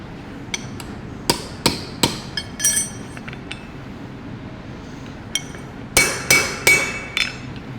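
A farrier hammers on a horse hoof during a restoration, a series of sharp metallic strikes in two clusters, some ringing with a slight clink, over quiet background.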